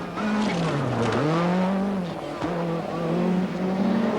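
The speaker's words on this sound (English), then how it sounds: "Per Eklund in the Audi Quattro, rocketing through" The Audi Quattro rally car roars past on a stage of the 1985 Lombard RAC Rally, its engine note loud and close, rising and dipping in pitch as it rockets through.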